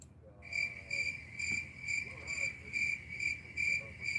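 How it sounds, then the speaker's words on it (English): Steady, pulsing cricket chirps in a fast rhythmic pattern, fairly close and clear against a quiet background, with no talking. "Let's see what the crickets sound like today."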